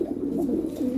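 A Lahri Siraji pigeon gives a low, rolling coo that lasts about a second, close and moderately quiet.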